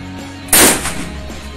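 A single loud shotgun shot from a CBC Military 3.0 16-inch with SG shell at a range, sharp and close, followed by a short fading echo.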